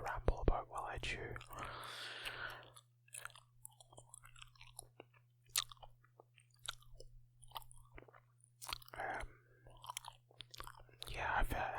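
Close-up gum chewing with wet, clicky smacks and crunchy bites, loud and intimate, interleaved with soft whispered talk over a steady low hum.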